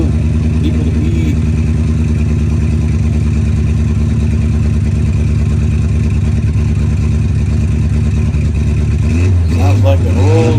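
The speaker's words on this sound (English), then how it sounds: "Sounds like an old V8." A Subaru engine rumbles steadily up close, a deep throaty idle like an old V8 that swells into a rev near the end.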